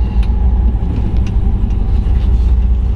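Supercharged LSA engine of a 1958 Chevrolet Yeoman 2-door wagon running with a deep, loud, steady rumble, heard close and alone.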